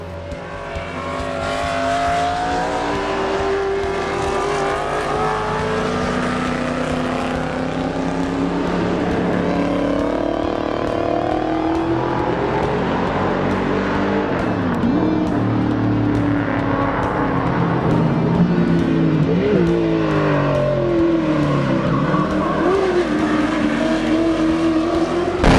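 Race cars roaring down a front straight at over 165 mph, a loud sustained engine howl with several cars overlapping and pitch shifts as they pass, nothing else competing.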